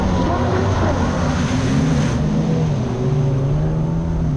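A Yamaha GP1200 two-stroke personal watercraft engine runs loud and close on the water, holding a steady droning roar throughout.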